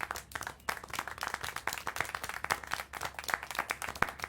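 Clapping in the video game Syberia 4, a dense, sharp patter of hands that runs steadily for several seconds at moderate level with no voices over it.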